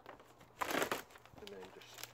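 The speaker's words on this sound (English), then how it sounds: "So we'll get rid of the shrink wrap." Plastic shrink wrap being cut and pulled off a Keter Marvel+ storage bench box, a close burst of crinkling and tearing followed by softer rustles.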